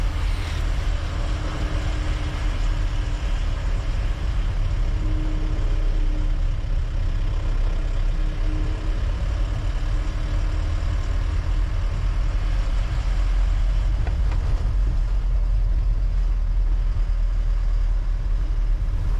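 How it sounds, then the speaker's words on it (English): Mahindra Bolero 2017 diesel SUV engine droning while driving, a loud, continuous low rumble mixed with road and outside noise heard from inside the cabin, with no talk. "you can hear quite a lot of noise outside, and you can also hear the sound of the engine since it's a diesel"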